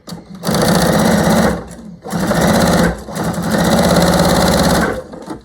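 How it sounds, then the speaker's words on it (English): A sewing machine stitches a quarter-inch seam on quilt pieces, running in three loud, close bursts of rapid needle chatter separated by short pauses. "I'm just sewing 1/4 inch all the time"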